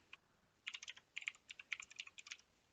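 Fast clicking keystrokes on a computer keyboard while typing a command in a Linux shell, a quick irregular burst of close, crisp taps with no talking.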